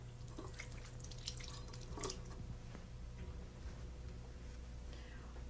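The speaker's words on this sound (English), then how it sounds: "Let me rinse my hands here." Hands are rinsed under a running kitchen tap, a steady hiss of flowing water with scattered splashes and drips, soft and fairly close, with no one speaking.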